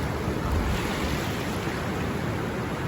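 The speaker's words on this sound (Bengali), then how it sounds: "ফুরফুরে হাওয়া, অগন্তি ঢেউ, যে ঢেউর কোনো শেষ নেই" Sea waves roll in at Mandarmani beach under a cloudy sky, a continuous, fairly loud surf roar mixed with breeze buffeting the microphone, with no voices.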